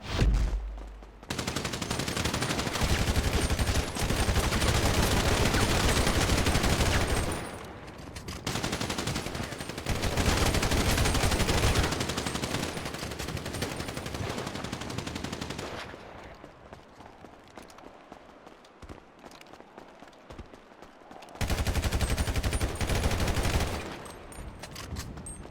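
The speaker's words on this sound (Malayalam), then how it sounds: "വെടിയുടെ സൗണ്ട് കുറവാടാ ഗെയിം സൗണ്ട് കുറവാണ്" Gunfire in a two-versus-two team deathmatch video game fight: long, loud bursts of rapid automatic fire, broken by short pauses, a quieter stretch, then another heavy burst.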